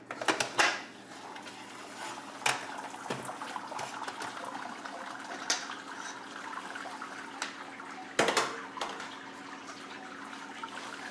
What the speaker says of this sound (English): You can probably hear the water running, the water running out of that pretty smoothly